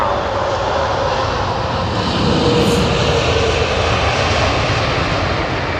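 A British Airways jet with Rolls-Royce Trent 800 engines thunders close by at Heathrow, a loud continuous broadband roar that swells briefly in the middle, with no voices.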